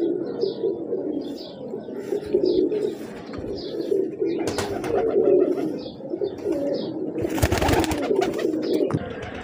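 High-flyer pigeons coo repeatedly in soft, rolling calls, with occasional chirps and brief rustling or flapping noises nearby.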